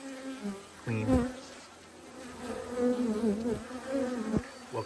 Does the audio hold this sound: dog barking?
no